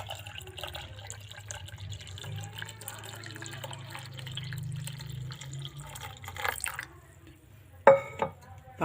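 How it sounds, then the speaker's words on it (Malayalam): Boiled milk pours over chilled watermelon for a sharbat, a steady liquid stream running for several seconds before a few louder clinks and splashes near the end. "അതതിലേക്ക് ഒഴിക്കട്ടെ."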